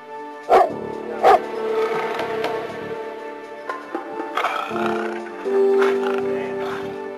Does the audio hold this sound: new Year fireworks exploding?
no